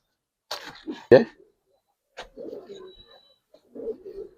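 Pigeons coo in short, soft throaty bursts, a few separate calls with gaps between, close and alone with no talking.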